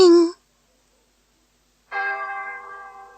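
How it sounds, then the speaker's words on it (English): Distant church bells on a Christmas morning, two ringing strikes: a brief clipped peal, near-silence, then a second bright bell tone that rings out and slowly fades. "the sound of distant church bells came floating down the tunnel."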